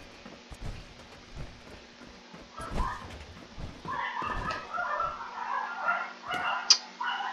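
Neighbouring dogs next door bark in scattered bursts, muffled and moderately distant, with yips and whimpers mixed in over a steady low hum.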